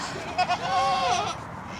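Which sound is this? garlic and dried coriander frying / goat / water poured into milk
goat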